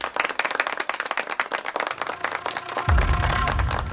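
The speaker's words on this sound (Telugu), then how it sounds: "సీనుకి చప్పట్లు కొట్టండి రా" A group of people claps rapidly and loudly in a street-gang scene, with the claps fading under a heavy low rumble that comes in near the end.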